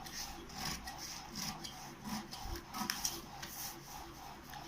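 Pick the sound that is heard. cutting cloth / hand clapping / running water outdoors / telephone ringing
cutting cloth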